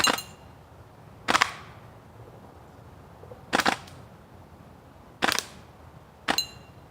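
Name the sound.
G&G M4A1 airsoft carbine firing full-auto bursts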